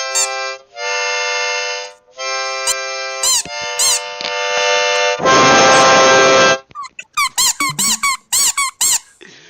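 A squeaky toy squeaks loudly and close, with long sustained squeals followed by a burst of short rapid squeaks, alongside a harmonica played in the same room.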